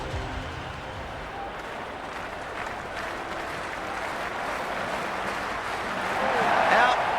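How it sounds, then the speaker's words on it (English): A cricket stadium crowd in Cricket 26 applauds in a steady wash of clapping that swells louder near the end, while a commentator's voice can be heard over it. "The crowd are loving every minute of this match."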